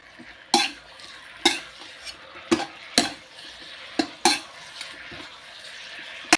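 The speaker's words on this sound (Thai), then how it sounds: "แล้วเราก็ผัดให้ เครื่องปรุงของเรานะครับ ซึมเข้าไปใน หมูกรอบของเราเนาะ" Crispy pork and Chinese kale stir-fried in a pan: a spatula scrapes and clanks against the metal in sharp, irregular strokes roughly every second, over a soft, continuous sizzle.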